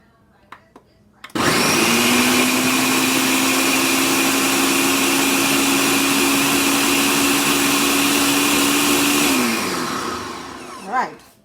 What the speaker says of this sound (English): and blend away, pulse it